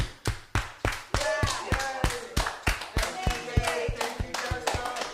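Recorded applause track played at the close of a live talking-arts stream, heard as a steady run of sharp, evenly spaced claps with a low hum beneath, fairly close and loud.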